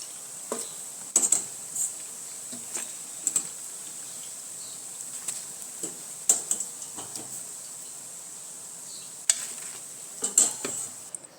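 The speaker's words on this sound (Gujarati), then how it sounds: "આપણે ગેસ બંધ કરી દઈશું અને પકોડા કાઢી લઈશું." Gram flour battered bread pakodas crackle in hot oil as they are lifted out. A steady fizzing sizzle runs throughout, broken by sharp utensil clinks and scrapes at irregular intervals.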